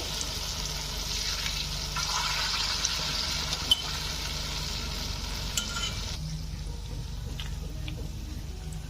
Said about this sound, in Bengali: আমি এভাবে হালকা গোল্ডেন ব্রাউন করে ভেজে নেব।